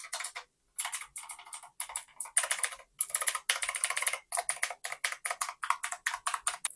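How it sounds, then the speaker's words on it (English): Rapid bursts of keystrokes on a Black Emblem K2 full-size aluminum mechanical keyboard with a classic tactile feel, close and crisp, with short pauses between runs of clicky typing and no talk. "to have more of the classic keyboard tactile sound"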